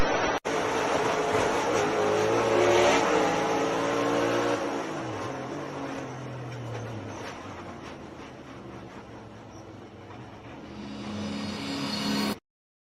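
A race car speeds toward the checkered flag, its engine roaring loud and rising before the pitch drops and fades away, then swells again at the end as the car passes.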